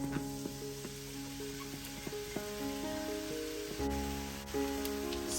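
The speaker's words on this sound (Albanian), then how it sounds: "Në njërin do të hedhim vaj ulliri," Onion sizzling in olive oil in a pan for a simple summer vegetable stew, a steady close frying hiss with occasional crackles and a few soft tonal pings, no voices.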